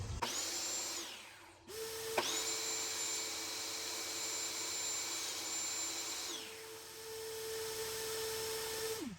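Table saw cutting wood to length for DIY bookshelves, a loud sustained whine as the blade spins up, briefly stops, then restarts and runs steadily through a long cut before winding down.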